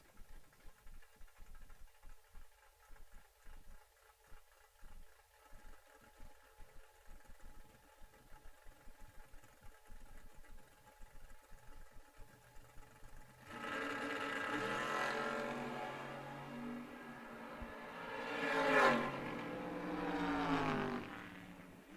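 Drag racing cars idle at the starting line, including a first-generation Camaro, with a lumpy rhythmic engine burble that swells into a louder, rising roar of revving engines in the latter half.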